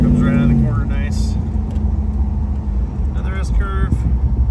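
A 1967 Dodge Coronet 500 restomod with fuel injection and a four-speed automatic accelerating out of a corner, its engine a steady deep rumble under a voice talking over it from inside.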